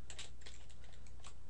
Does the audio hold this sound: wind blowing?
no